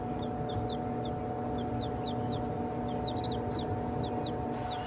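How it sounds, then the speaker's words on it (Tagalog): White leghorn chicken chicks give many short, high peeps in an irregular scatter over a steady background hum, fairly close. "Malalaki talaga yung mga sisiw."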